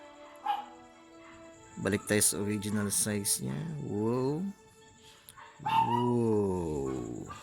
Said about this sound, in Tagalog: Maingay ang aso.